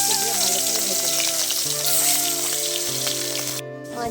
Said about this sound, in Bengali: এবার আমি মাছগুলোকে দিয়ে ভালো করে ভেজে নেব।